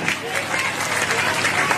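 A school crowd at a Basant Panchami function claps loudly, with a dense, even burst of applause filling the whole moment and no pauses.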